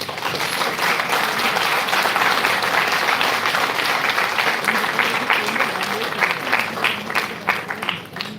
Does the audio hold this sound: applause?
yes